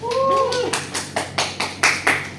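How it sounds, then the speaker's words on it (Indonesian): A classroom of students gives a short round of hand clapping, about half a dozen sharp claps in a steady rhythm after a brief pitched tone at the start. "Boleh tepuk tangannya?"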